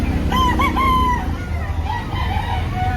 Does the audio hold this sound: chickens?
yes